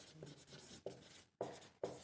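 Pen or chalk strokes as an equation is written out by hand during a math lesson, a few short scratchy bursts separated by brief pauses, quiet and close with no talking.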